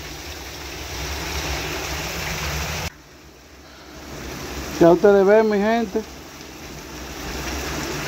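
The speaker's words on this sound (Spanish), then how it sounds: "esta agua tiene ya, mire, tiene como 20 minutos lloviendo y no para" Heavy rain pours down in a cemetery, a dense broadband hiss that drops away briefly and then returns, with someone speaking over it for a moment.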